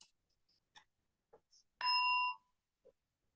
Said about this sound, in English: when I ring the bell, just imagine the sound spreading the prayer everywhere.